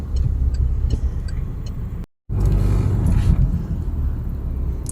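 A car being driven, heard from inside the cabin as a steady, loud low rumble of engine and road noise, with a brief dropout partway through.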